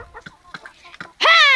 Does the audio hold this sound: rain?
no